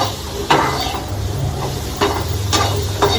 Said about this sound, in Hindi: अभी आलू के लंच में आलू फ्राई कर रहे हैं